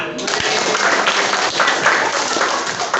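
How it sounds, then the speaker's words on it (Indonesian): A classroom group in a grade 7 civics quiz claps together in a steady burst of applause that holds for about three seconds without pause. "Tepuk tangan."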